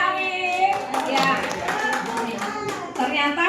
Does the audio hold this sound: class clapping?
yes